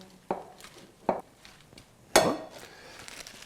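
A salad dressed with balsamic vinegar and pumpkin seed oil is stirred in a bowl, giving a few sharp clinks and scrapes of utensils against the dish, irregularly spaced and close, with softer rustling between them.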